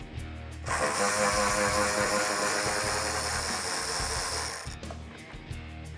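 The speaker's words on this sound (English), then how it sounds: "I'm gonna use a 7mm wobble socket to get into this corner here" A 7mm wobble socket on a ratchet backing out bumper screws on a 2018-2021 Mustang, giving a sustained, even run of fast close-up clicking that starts abruptly, with brief separate clicks before and after.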